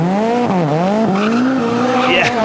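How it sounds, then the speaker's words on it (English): A WRC rally car on the Coll de la Teixeta power stage in Catalunya, Spain, squeals its tyres in a long, loud rising-and-falling screech over the steady roar of its engine. "Big squeal of the tyre."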